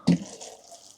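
Water poured onto compost gives a short splash and bubbling gurgle, fading into a soft trickle as it soaks in.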